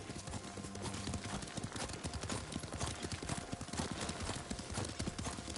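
A horse being ridden in a video game: quick, rhythmic clip-clop of hooves at a steady gallop, close and continuous, with a brief whinny amid the galloping.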